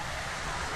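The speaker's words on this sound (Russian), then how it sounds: "есть немножко этот водопадик." A small waterfall in a forest in Andorra gives a steady, even rush of falling water, heard close and alone for a brief moment.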